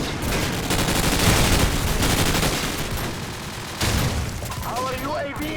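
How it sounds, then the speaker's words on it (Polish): Air strike explosions and gunfire in a Call of Duty video game: continuous loud rattling bursts of automatic fire and heavy booms, with a brief lull and renewed blasts toward the end, under a voice. "mamy nalot, mam nadzieję, że mnie nie zabije"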